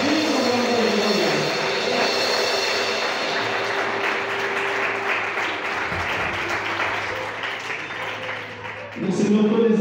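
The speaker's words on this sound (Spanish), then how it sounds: "Dale un fuerte aplauso" A church congregation claps loudly and steadily throughout a worship song, the applause running continuously under music, swelling again near the end.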